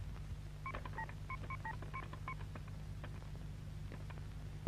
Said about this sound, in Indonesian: Kelihatannya telepon Pandi bicara terus tuh.